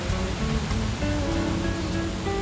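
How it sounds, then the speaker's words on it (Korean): Yongchu waterfall at night pours with a steady, dense roar of rushing water, loud and continuous throughout, with faint tonal sounds drifting over the torrent and no talking. "와, 용추 폭포 물소리. 뭐 천둥 울리는 소리 같아요."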